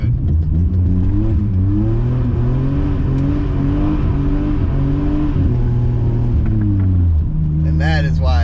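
A BMW E34 535i with the M30 inline-six and a five-speed revs hard during a drift, a loud, steady engine drone with rising and falling pitch that holds throughout and climbs sharply near the end.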